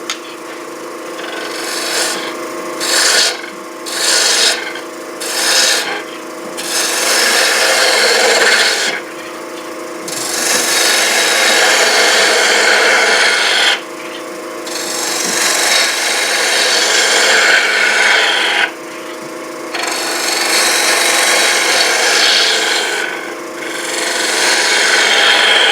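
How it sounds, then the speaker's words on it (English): A power tool makes a steady rasping, grinding cut into a wooden sphere, running in long stretches broken by short pauses, with repeated concentric passes and no talking. "I'm going to make a bunch of concentric cuts."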